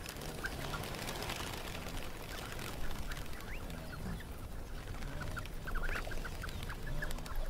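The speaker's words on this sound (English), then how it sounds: "Hundreds of sand grouse take advantage of the clean pools made by the zebra and wildebeest herds" Hundreds of sandgrouse gathered at clean pools in a dry riverbed, with a dense continuous bed of chattering bird calls and scattered sharper chirps over steady low background noise.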